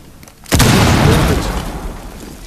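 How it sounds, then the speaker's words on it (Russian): A breach charge blows through a weak wooden barricade in the video game Rainbow Six Siege, one sudden loud boom that bursts in and then rumbles and crackles as it slowly fades. "ставлю бомбу пока. Эту специальную на такие вот деревянные слабые укрытия"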